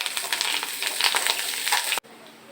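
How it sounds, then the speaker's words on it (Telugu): Onion, carrot, green chillies and curry leaves fry in a pan for masala Maggi noodles, a loud, steady sizzle with scraping stirs that cuts off abruptly near the end, leaving faint background hum. "ఇవి మొత్తం మంచిగా కలిసేలాగా ఫ్రై చేసుకోవాలి."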